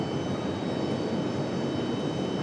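A Delta airliner takes off from runway 23 left at Raleigh-Durham, its engines a steady broadband roar that holds loud and even throughout, with no voices over it.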